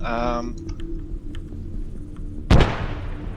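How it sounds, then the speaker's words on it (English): A sharp blast in a video game military operation, a single loud explosion near the end with a decaying rumble, following quieter background sounds and brief tones. "probably where that explosion just happened"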